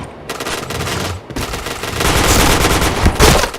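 Loud, sustained automatic gunfire in a first-person shooter, continuous rapid rattling with a brief break near the start and a few heavier bangs toward the end.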